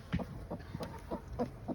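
A broody hen clucks in short, repeated bursts, about five close, moderately loud clucks over under two seconds, with no talking.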